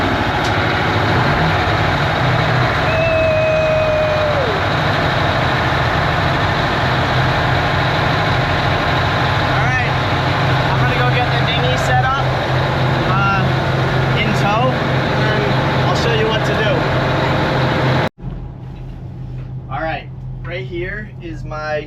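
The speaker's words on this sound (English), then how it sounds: "This is the last engine start in the United States before the Bahamas trip" The engines of an old 70-foot yacht rumble steadily at idle, loud and close, before a Gulf Stream crossing to the Bahamas, with people talking over the drone.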